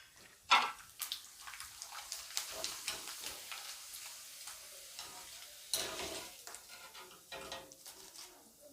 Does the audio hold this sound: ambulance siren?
no